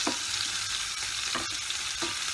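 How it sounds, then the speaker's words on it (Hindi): Onion frying in a pan with roasted cumin seeds, a dense continuous sizzle with occasional stirring scrapes, close and loud with no voices. "जीरा भून गया है तो अब मैं इसमें प्याज ऐड कर दूंगी"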